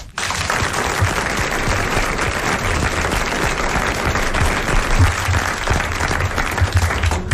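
Sustained studio audience applause from a 1980 French television show, a dense, loud wash of many hands clapping steadily throughout.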